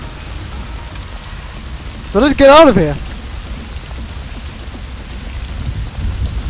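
Heavy rain pours steadily in the video game Hitman: Blood Money, a constant hissing wash under a short stretch of someone speaking.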